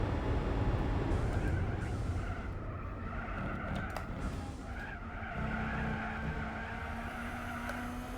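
Tires squeal continuously in a handbrake skid as a race car slides through a corner in Gran Turismo 4, a loud sustained screech over steady engine roar.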